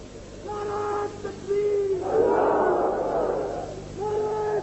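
A crowd at a religious gathering shouts a chant in unison, a loud swelling roar of many voices that rises and holds for a couple of seconds between bursts of a single amplified voice.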